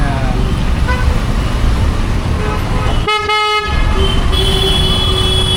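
Vehicles crowd a U-turn on a busy road, with a loud car horn honking briefly mid-scene over a constant roar of traffic and engine noise heard from a moving motorbike.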